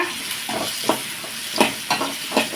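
Curry leaves sauté in hot oil in a pan for a goat head curry, with a steady sizzle broken by five or six sharp stirring scrapes at irregular intervals.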